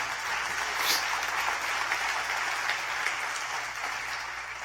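A church congregation applauds during a sermon on family, a steady wash of clapping with a faint low hum beneath it and no clear speech.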